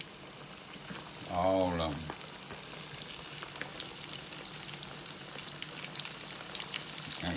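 Ranch-seasoned ribs lowered into hot oil give a brief loud burst of bubbling and sizzling, then a steady, quieter frying crackle. A few spoken words come near the start.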